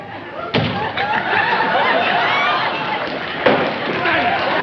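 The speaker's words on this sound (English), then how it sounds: "Well, I shut the door." A door slamming shut on a sitcom stage set: one loud thud early and a second bang later, under a steady murmur of studio audience noise.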